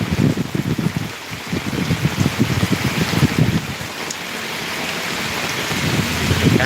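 Rain pours down in Dhotian village near Tarn Taran, Punjab, a loud, dense, steady hiss of drops spattering on surfaces close by, with no voices and no pause throughout.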